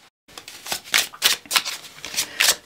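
Oracle cards are shuffled by hand in a fast run of crisp riffling bursts, close and loud, with no voices over them.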